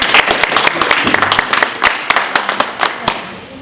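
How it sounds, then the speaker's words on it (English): A seminar audience gives a round of applause after a presentation celebrating Caribbean women storytellers: loud, close clapping from a modest crowd, with distinct individual claps audible and the applause thinning toward the end. "Can we give another round of applause?"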